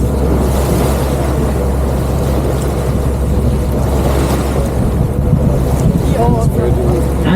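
A tour boat cruises through Copenhagen harbour past floating fish hotels, its engine a steady low drone with wind and water wash underneath, continuous and close, with faint voices in the background.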